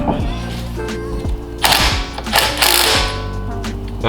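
Close mechanical clicking and ratcheting as a new ESR SR07 wheel is mounted on a Ford Focus, with a few metallic clanks and thunks in an irregular rhythm.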